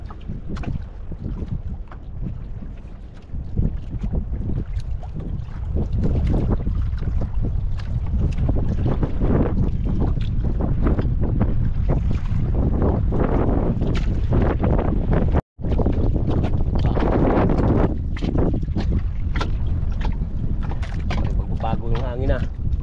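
Strong sea wind buffets the microphone in a constant roar, with boat engine rumble and splashing water beneath, and voices talking faintly through it.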